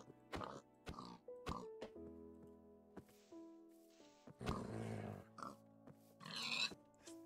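Short grunting oinks from a pig in Minecraft, several brief bursts spread across the clip over looping game music, with other game sounds between them.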